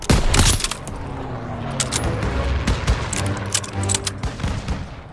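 Rapid, loud gunfire from World War II weapons in the game Call of Duty WW2, with a heavy opening burst and then repeated sharp shots and rattling volleys continuing throughout, some near and some distant.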